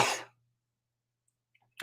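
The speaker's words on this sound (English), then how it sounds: "Oh, about to sneeze." A single close, loud sneeze bursts out and cuts off abruptly during a live painting session, followed by near silence and a faint breath at the end.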